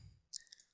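A single computer mouse click on an OK button, a faint, brief, close tick followed by a softer second tap, heard alone.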